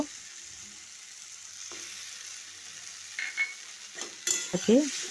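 Tomato chutney softens in a pan, a faint low sizzle with occasional spoon stirs and clinks of utensils growing louder toward the end.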